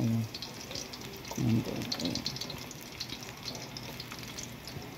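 Garlic dropped into a hot frying pan while cooking afritada, giving a soft, steady sizzle close by with a few brief stirring scrapes, under a woman's short remarks.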